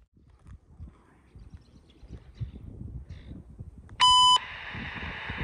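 A single sharp electronic beep from a CN railway defect detector sounds briefly over faint outdoor rumble, followed by a lingering tone.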